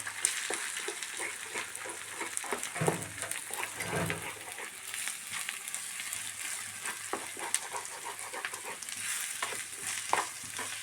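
Two eggs are scrambled in a pan with lightly fried onion and coconut, a continuous close sizzle with frequent scraping and tapping of a spatula stirring. No voices are heard.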